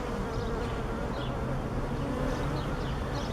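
Honeybees in an opened four-frame hive box, a dense, steady buzzing hum that fills the whole stretch, close and even in level with no voices over it.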